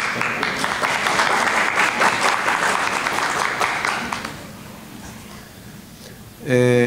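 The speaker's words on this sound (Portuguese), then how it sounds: "Vamos aplaudir, doutor." A conference audience at a medical meeting applauds a doctor, loud sustained clapping that fades out, leaving quieter room tone before a voice starts at the end.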